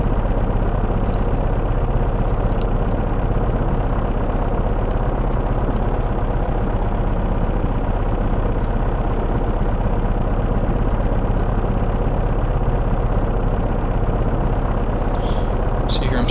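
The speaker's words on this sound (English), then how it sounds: "then we fire the right engine" A P-38L Lightning's piston engine runs in a VR flight video game, a loud, constant droning hum that holds steady with a few faint high ticks above it.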